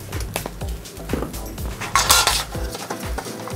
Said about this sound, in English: Let's get a little olive oil into bottom of the tin.